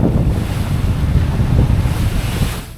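Waves slap and wind rushes while a sailing yacht pushes through short, choppy slop against the tide, a loud, continuous wash of water and wind noise on the microphone with no voices.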